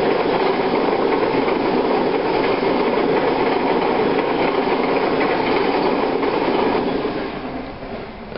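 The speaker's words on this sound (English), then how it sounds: "the train goes by here." A train rolls past, a loud continuous roar of wheels and rail noise with faint clickety-clack, holding steady before fading slightly at the end.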